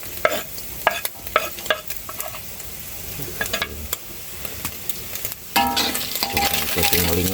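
Garlic, shallots, scallions and chili frying in a wok over a wood fire for traditional mie tek-tek: scattered clanks and scrapes of stirring, then a loud, steady sizzle bursts up and carries on to the end.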